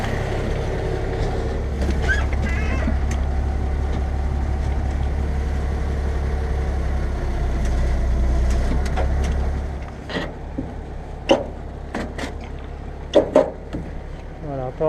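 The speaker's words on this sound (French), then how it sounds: "j'avance très légèrement le tracteur pour détendre la sangle" A tractor engine drones in a steady low rumble as the machine creeps slightly forward to slacken a strap, then the engine noise drops away, leaving a few sharp clanks and knocks.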